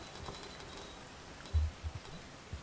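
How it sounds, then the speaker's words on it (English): Soft, steady patter of passive, non-lethal rain in the video game Rain World, with a few low thumps partway through. "It's non-lethal rain!"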